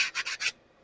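Parts of a 1933 Maytag Model 92 washer are sanded by hand, four quick rasping strokes in steady rhythm, close and fairly soft, then stillness.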